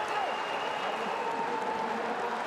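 Home crowd at a FIBA World Cup European qualifier basketball game between Georgia and Spain, a dense, continuous roar of cheering and applause filling the arena at steady volume, with a commentator's voice faintly over it.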